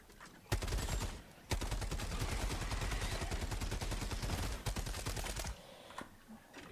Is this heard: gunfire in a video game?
yes